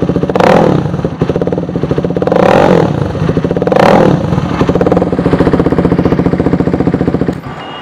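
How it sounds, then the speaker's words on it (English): A KTM Duke 390 single-cylinder motorcycle revs repeatedly while parked beside the listener, with three sharp throttle blips rising over a loud, steady, pulsing idle. "This is the exhaust note that you get when you're standing next to the bike. Let's rev it up."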